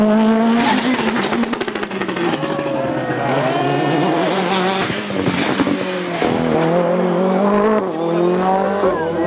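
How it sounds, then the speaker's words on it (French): Rally cars on a Rallye de France stage sweep past one after another, engines rising and falling in pitch with gear changes and brief tyre noise, loud and close, over a steady background of crowd. "voir passer les voitures des équipages engagés pour le Rallye de France devant une foule enthousiaste"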